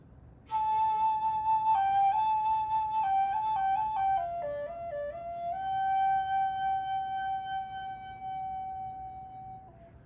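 A single flute, close up, plays a slow sustained phrase: one long held note, then stepped bends down and back up, settling on a final long tone that fades near the end.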